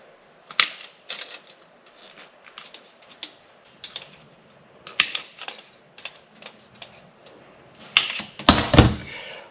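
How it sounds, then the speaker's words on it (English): Tin snips cut sheet metal with a string of sharp metallic snips and clicks, irregularly spaced and close by, ending in a louder rattling clatter, with no talking. "Nothing more exciting than watching a guy run a pair of tin snips"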